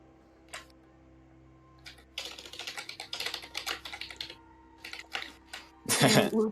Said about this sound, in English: Mum is typing.